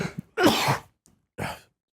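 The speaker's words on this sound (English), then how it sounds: "I sneeze a lot." A single close sneeze bursts out with a short inhale before it, followed by a brief breathy exhale, loud and sudden in an otherwise quiet room.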